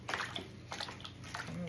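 Water sloshes and splashes in a container as magic gel water pets dissolve, with light repeated splashes and a child and an adult talking over the wet sounds.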